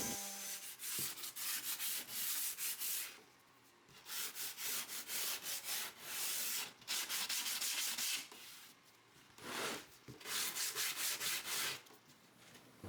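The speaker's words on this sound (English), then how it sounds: "Before finishing, I do a light sanding, then hand sand the edges." Steady back-and-forth scratching of sandpaper rubbed by hand over the edges of pallet wood, in repeated strokes with brief pauses, close and fairly quiet.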